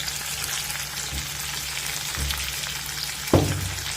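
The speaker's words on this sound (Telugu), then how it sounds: "ఎండుమిర్చి వేసుకుంటున్నాం." Dried red chillies frying in hot oil with fenugreek leaves for tomato charu, a steady close sizzle and crackle throughout, with a sharper pop or stir near the end.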